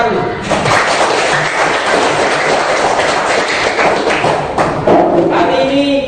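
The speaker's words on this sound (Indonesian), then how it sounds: "Tepuk tangan dulu." Classroom of schoolchildren clapping their hands together in a dense, noisy burst of applause that fills the room, with voices mixed into the clatter.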